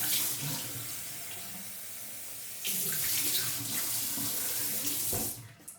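Tap water runs steadily into a sink as someone rinses their face with cold water, the splashing growing louder partway through and then cutting off near the end, heard close with no talking.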